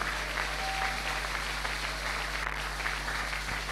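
A church congregation applauding during a service, a steady, even patter of many clapping hands that holds for nearly four seconds at moderate volume, without speech.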